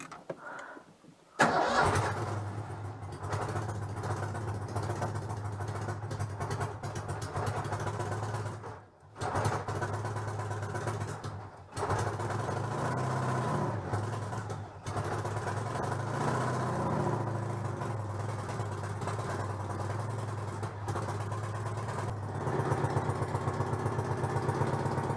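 A Citroën 2CV's engine cranks and catches, then settles into a steady, close idle with a few brief dips and stumbles, running on its own without talk.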